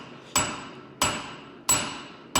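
A blacksmith's diagonal peen hammer strikes a metal bar in a corner on the anvil, four sharp ringing blows at a steady unhurried pace, each decaying quickly, with no talk.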